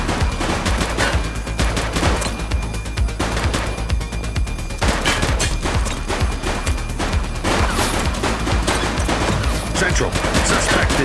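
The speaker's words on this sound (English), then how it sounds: "He's shooting!" Sustained loud gunfire from a police shootout in the game The Precinct: dense, overlapping shots and bursts keep going without a break.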